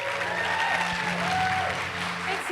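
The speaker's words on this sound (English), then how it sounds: "give a big, massive round of applause to Patricia Arquette." An audience welcomes Patricia Arquette with a sustained round of applause, a broad, continuous roar of clapping hands mixed with a faint low hum from the room.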